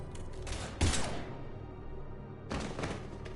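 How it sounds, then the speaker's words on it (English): Gunfire from a Mass Effect 3 firefight: a sharp burst near the start, then a rumbling lull and a second cluster of shots toward the end, moderately loud with no talk. "Now open fire!"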